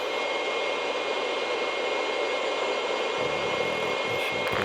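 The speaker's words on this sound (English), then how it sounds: "So now the engines are coming alive." Airliner engines spool up during pushback of an old Russian passenger jet in a flight simulator game, a steady loud broadband roar with a high whine that holds throughout, with no talk.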